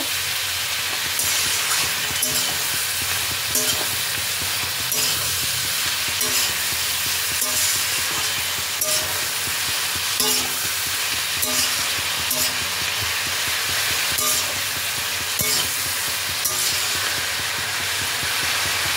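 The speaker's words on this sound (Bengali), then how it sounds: "এবার মশলাগুলোকে ভালো করে সবজির সাথে মিশিয়ে নেব" Spices being stirred into mixed vegetables in a hot pan: a constant loud hiss of cooking runs throughout, broken by repeated soft scraping and knocking from a spatula at a loose, regular pace.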